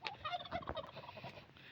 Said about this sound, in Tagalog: Yung mga pabo niya nasa labas